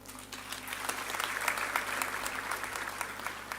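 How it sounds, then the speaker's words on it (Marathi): Audience applause at a crowded gathering honouring a veteran Marathi actor, many hands clapping steadily at moderate distance, a sustained even patter with a low hum beneath. "हे तुमच्या टाळ्या वाजल्या ना"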